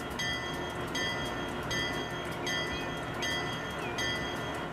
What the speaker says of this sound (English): I want to go take a train ride from Madison to Omaha.